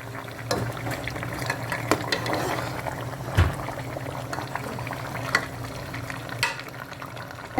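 Yogurt is stirred into a bubbling biryani stock (yakhni), a soft liquid simmer with occasional spoon scrapes and knocks against the pot.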